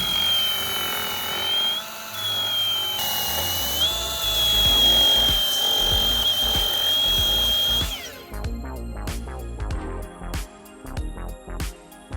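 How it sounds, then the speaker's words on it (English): A power drill drills a hole while fitting a car headlight, whirring in short bursts, revving and stopping repeatedly, loud and close, after a stretch of steadier machine noise. "And then I need to drill it."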